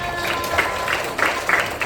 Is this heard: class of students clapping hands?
yes